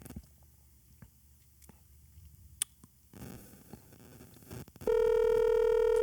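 A landline phone being dialed, with a few faint clicks and button taps before a burst of handling noise, then a loud steady multi-tone dialing signal cutting in near the end, close and with no talking.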